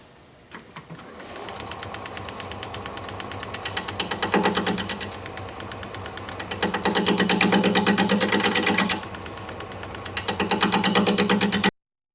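A wood turning chisel being sharpened, giving a steady, loud buzzing grind that holds for about twelve seconds, swelling slightly in intensity twice before stopping abruptly.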